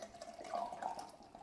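Left Hand Hard Wired Nitro beer poured hard from a vertically tipped can into a glass, a steady close liquid rush and gurgle lasting throughout, with no talk.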